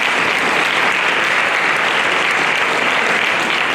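A high school graduation audience applauds, a dense, steady wash of clapping from a large crowd sustained at full strength throughout.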